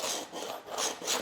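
Repeated rasping strokes as small squares are cut from a waterproof foam-core tile backer wall board, three close rough bursts of scraping sawing in quick rhythm with no voices.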